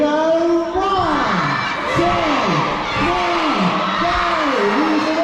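A crowd of children at Knowsley Safari shouting together loudly and close, a sustained chorus of yells rising and falling in several waves.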